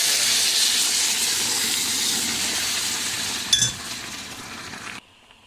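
Water poured onto toasted bulgur in a hot pan, a steady broad hiss and steam with a brief clink near the end before the sound cuts off abruptly.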